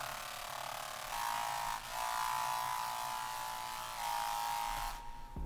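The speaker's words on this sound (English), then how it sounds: "The high frequency bass or growl bass sounds like this." Buzzy, high-pitched growl bass synth from a produced song, a steady gritty drone with slight pitch shifts and brief dips, fairly quiet and alone before stopping near the end.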